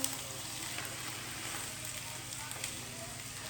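Chicken breast frying in a pan after being flipped, a steady, even sizzle with soft crackles throughout, moderately quiet and close, with no talk over it.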